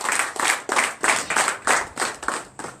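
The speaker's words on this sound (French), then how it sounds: "Donnez l'acclamation." Congregation clapping in acclamation during a night deliverance and prophecy church service in Benin, eight or so loud, evenly spaced bursts of many hands clapping together in a steady rhythm.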